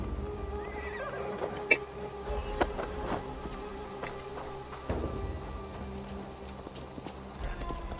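A horse neighs in the Assassin's Creed Valhalla video game, a short whinny over a busy game soundscape with hoof clatter and scattered bumps, fairly soft and mixed into the background.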